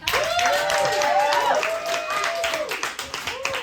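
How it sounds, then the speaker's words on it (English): An audience at a live talk gives a round of applause, steady clapping mixed with cheers and whoops, tapering off toward the end. "let's give each other a round of applause for showing up and leaving the apartment"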